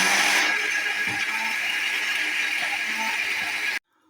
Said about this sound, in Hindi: अब इसे हमने ब्लेंड कर लेना है।